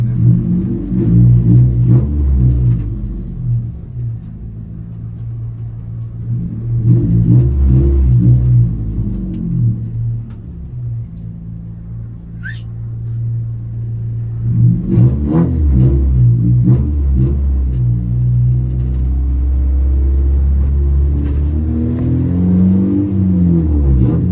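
A Honda Civic with a K-series engine rumbles steadily while driving, rising into louder revs several times, with low droning throughout and no talking.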